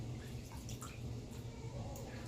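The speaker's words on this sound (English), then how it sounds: "Add a little bit more water to the scuttle real quick." Water trickles and drips into a shaving scuttle, a soft, faint splashing and dribbling that continues evenly for a couple of seconds with no talk.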